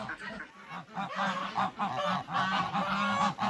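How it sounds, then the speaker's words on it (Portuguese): Several domestic mixed-breed geese honk repeatedly nearby, overlapping nasal calls in a rough rhythm, fairly loud and continuous. "Aqui a gente trabalha com os gansos caipiras, são gansos mestiços."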